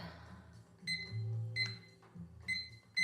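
A harsh electronic work timer alarm sounds in repeated beeping bursts with a low buzzing tone, fairly close and alone, with no talking.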